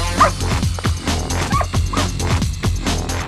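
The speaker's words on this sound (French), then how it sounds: "L'équipe cynotechnique recherche les victimes ensevelies à l'aide de chiens dressés." Trained search-and-rescue dogs from a canine search team bark and yip repeatedly in quick succession, loud and close over a dense background of music and noise.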